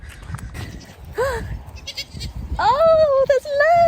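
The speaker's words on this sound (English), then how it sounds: "It's a goat, that's what I saw." Several goats bleat close by with wavering, drawn-out cries that overlap, heard while a person talks nearby, with a low rumble underneath.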